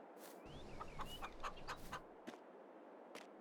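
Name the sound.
chicken clucking in Farming Simulator 22 video game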